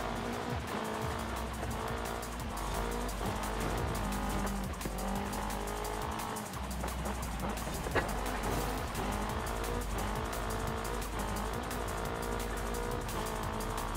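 Car engine roaring and tires squealing while off-roading in Forza Horizon 5, a loud continuous engine drone with shifting pitch and skidding tire noise throughout, plus a brief sharp knock near the end.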